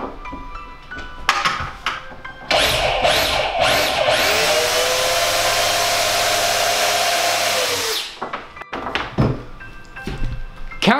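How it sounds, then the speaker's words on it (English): A power drill countersinks a screw hole in a butcher block wood countertop, whining loudly and steadily for about five seconds after a few short bursts, with clunks and handling knocks before and after. "Next, I'm going to countersink right there, and the head will be able to fit and go out of sight."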